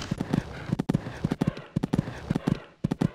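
Horse hooves pound out a rapid, regular galloping rhythm leaving the start box on a sunny cross-country course in the Equestriad 2001 video game, loud and close with no talk over them.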